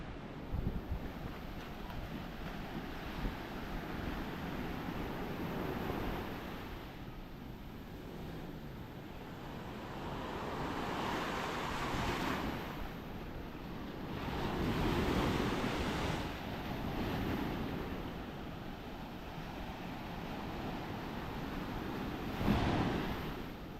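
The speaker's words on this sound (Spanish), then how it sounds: "Bueno, sí está un poco bravo las olas, pero no está mal." Rough ocean waves roll and crash steadily onto a beach in Cancun, a continuous loud surf wash swelling and receding in repeated surges, with wind buffeting the microphone and no one speaking.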